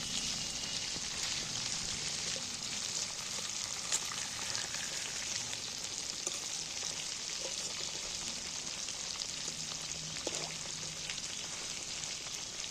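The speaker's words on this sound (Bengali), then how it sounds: "একটা একটা করে উল্টিয়ে দিচ্ছি মাছটা এত চটি চটি তেল বেরিয়ে আছে মাছটা" Tengra fish fry in hot oil with a dense, crackling sizzle that holds steady, and faint clicks come through as the pieces are flipped one at a time. No speech.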